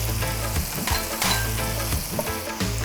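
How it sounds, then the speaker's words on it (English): Tomato frying in a pan with cumin, coriander, garam masala and turmeric, a dense close sizzle broken by repeated scraping stirs of a spoon. "Next, in goes the tomato. Adding the cumin, coriander, garam masala and turmeric."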